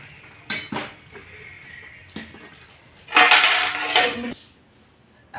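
Metal utensils clink and scrape against a cooking pot while peanut bhajiya curry is stirred, a few sharp separate taps followed by a louder burst of rattling and scraping, close by with no talk.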